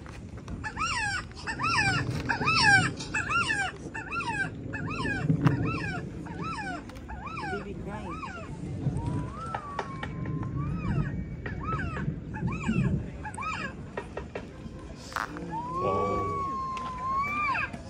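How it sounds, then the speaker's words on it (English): Bright, repeated chirping bird calls in quick bursts, with a few whistled notes, over a murmuring background of talk and low noise. "That's the way that the bird is singing."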